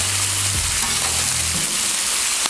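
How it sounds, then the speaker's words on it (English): Hash browns flipped on a Blackstone griddle, with a loud, close, continuous sizzle and a brief scrape of the spatula near the start. "Give these hash browns a flip."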